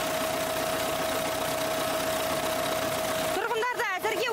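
A blue tractor that delivers water to a village keeps its engine running with a steady close drone and hum. A voice breaks in near the end.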